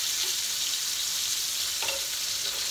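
Sardines sizzle and spit as they fry in oil in a pan, a steady close hiss filling the clip at even loudness, with no talking.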